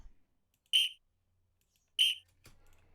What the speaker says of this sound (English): we then added our whistle